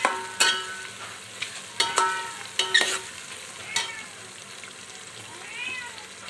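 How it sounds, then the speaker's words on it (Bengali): Green chillies fry in a pot for white chicken pulao, with a steady soft sizzle and several sharp scraping strokes of stirring spaced through the clip, fading to quieter frying at the end. "এর মধ্যে ঢের সারা কাঁচা লঙ্কা দিয়ে দেবো, 1 প্লেট। এটাও ভালো করে নাড়িয়ে নেব।"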